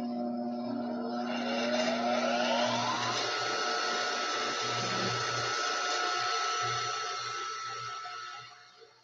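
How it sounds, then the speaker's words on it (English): A Juki high-speed sewing machine driven by a foot pedal gives a continuous close, loud motor whir that ramps up in pitch, holds steady for several seconds, then eases off. "Juki high speed sewing machine."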